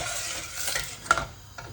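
Onions cook in a pot for a British Indian curry base, giving a close, steady sizzle with the scrape and stir of a spoon and a brief sharp clink of metal.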